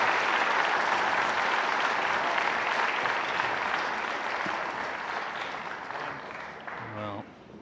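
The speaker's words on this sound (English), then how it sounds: "Big round of applause because the other match is finished." Broad, sustained applause from a snooker arena crowd at the Players Championship, loud at first and gradually fading, with a commentator's voice coming in near the end.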